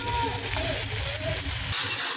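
Chicken skin hits hot fried spice paste of dried chili, turmeric and salt with potatoes in a village kitchen, giving a steady, fairly loud sizzle and crackle that runs unbroken for about two seconds.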